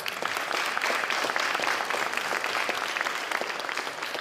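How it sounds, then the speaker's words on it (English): Conference audience applauding steadily after a speaker is introduced at a fisheries and climate change event, a dense, even burst of clapping that holds near and loud for the whole stretch. "Give her a big round of applause."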